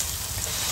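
Tomatoes tossed into a frying pan of hot avocado oil for ginisang upo with sardines give a brief, steady close-up sizzle with no talking.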